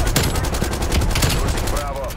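An M16 rifle fires rapid, dense bursts in Call of Duty Black Ops Cold War. The loud gunfire runs almost continuously and overlaps in a close fusillade over game ambience, with no speech.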